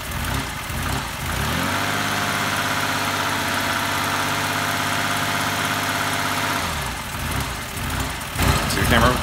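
A 2006 Mazda 6 with a busted throttle body pigtail harness holds a steady, droning high rev for several seconds with the gas pedal pressed down, then drops back, with talking over the engine.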